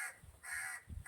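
A crow caws two loud, harsh times in a row nearby, heard alone with no talk.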